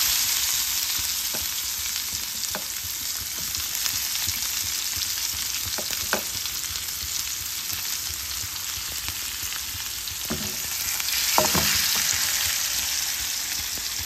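Onion fries in a pan after cumin and asafoetida go in, a constant close sizzle with occasional stirring clicks and a brief swell near the end.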